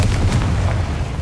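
Loud, deep booming blast of the Confringo fire spell in Hogwarts Legacy, a heavy low rumble with crackling bursts that rolls on for the whole moment, close and dominant with no talk.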